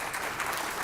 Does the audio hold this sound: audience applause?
yes